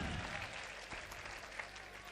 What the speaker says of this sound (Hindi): एक बार तालियों से आप सभी का माहौल चाहूंगी।